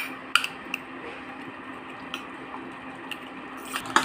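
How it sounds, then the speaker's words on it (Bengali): Cooked vegetables for a vegetable curry are mashed in a bowl, giving soft squishy presses and a few light utensil taps over a steady low hum. "এবার আমি এইগুলোকে একটু ম্যাশ করে নিয়ে ওই তরকারিতে দিয়ে দেবো"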